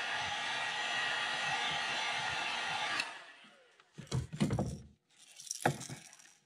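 A hair dryer blows steadily to heat-set fresh paint on a crankbait lure, a loud broadband whoosh that cuts off abruptly, followed by a few brief clinks and rattles.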